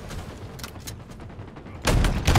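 In Halo Infinite, a spike grenade is thrown amid a rattle of gunfire bursts, quieter at first, then loud, dense blasts in the final half second.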